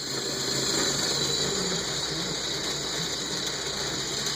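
A Lego 10-speed transmission, built as a 5-speed with a 2-speed box, runs in fourth gear under load with a continuous, even whir and ratcheting gear clatter at moderate level throughout.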